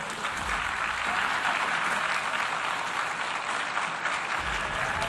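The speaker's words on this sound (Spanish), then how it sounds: "Al subir a la tribuna, así fue recibido, entre gritos y abucheos." Loud, dense crowd shouting and booing greets Netanyahu as he steps up to the podium, a steady roar of many voices sustained throughout with no single speaker standing out.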